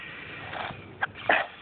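A single short sneeze bursts out near the mic outdoors during a walk, followed by a second similar burst, over faint background noise with no talking.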